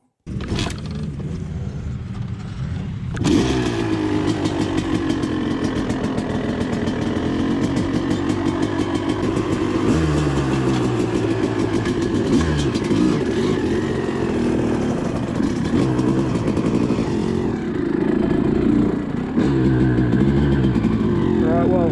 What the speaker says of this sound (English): First ride on the RM250 after it's been rebuilt